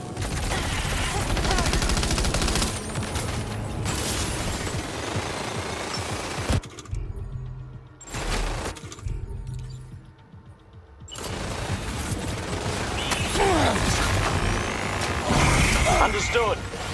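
Sustained gunfire in the Death Stranding 2 assault on Terminal Fort Knot, with dense bursts and crashes that drop out briefly mid-clip before returning loud, and voices talking over the battle.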